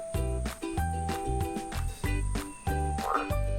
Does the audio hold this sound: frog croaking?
yes